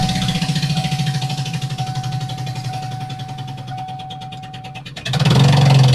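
A Ford van engine runs with a misfire from a blown-out spark plug, giving a loud, uneven, chuffing idle with a rhythmic stumble, then the note shifts abruptly to a deeper, rougher roar near the end.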